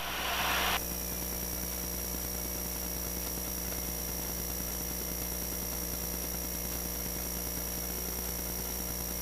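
Light aircraft engine on landing approach to Potomac Airpark in Berkeley Springs, West Virginia: a brief louder burst, then a drop to a steady idling drone with a constant hum for the rest.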